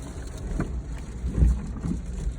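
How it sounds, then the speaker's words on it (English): Wind gusting across an exposed hilltop along an old Roman road, a steady low rumble and buffeting against the microphone that swells briefly midway, with no talking. "You can hear the wind."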